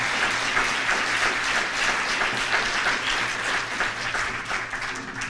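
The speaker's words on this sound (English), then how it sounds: "let's give him another big round of applause for the great role." An audience at a 20th anniversary event with Senator Jeff Bingaman gives Michael Sanchez a big round of applause. The sustained, dense clapping runs for about five seconds and thins slightly toward the end.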